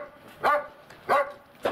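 A dog barks three times in short, loud bursts spaced about half a second apart, close by, with no talking over it.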